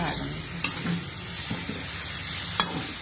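A utensil scrapes and stirs through food in a sizzling frying pan with salt added, steady frying hiss underneath and a few distinct close taps against the pan.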